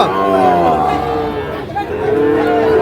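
A Sahiwal bull calf about five or six months old at the Ambari cattle market, lowing as a drawn-out moo over busy crowd chatter and nearby voices, close and fairly loud.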